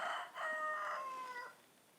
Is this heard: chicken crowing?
yes